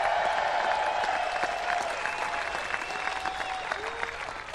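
Golf fans in Pittsburgh applauding and cheering a champion, a dense, steady wash of clapping from a large crowd with faint voices mixed in, holding strong throughout.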